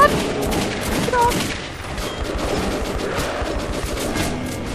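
Rapid gunfire in the video game Metro 2033 Redux rattles on as a dense, loud barrage of overlapping shots, with no quiet gaps across the whole stretch.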